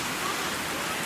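Heavy rain comes down in a dense, unbroken hiss, loud and even throughout with no pauses or voices.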